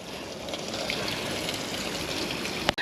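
Water from a hot spring at Sembawang Hot Spring Park in Singapore runs down a cascading channel in a steady close trickling rush, cut briefly by a sharp knock near the end.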